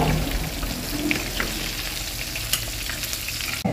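Breaded chicken breast sizzling and frying in hot oil for crispy sweet and sour chicken, a steady close crackle with occasional pops and stirring clinks, ending in a sharp knock.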